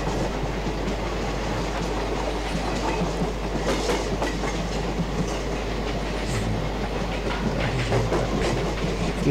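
An Indian express train in the MSTS/Open Rails simulator crosses an old bridge at slow speed, a steady loud rumble with rhythmic clickety-clack of wheels over rail joints and a constant low engine drone throughout.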